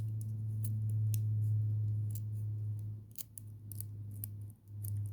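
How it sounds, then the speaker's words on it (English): Scissors snip and crunch through a metal or plastic slinky toy in several uneven cuts, close and loud over a steady low hum, with no talking. "Let's see if the scissors can do any damage."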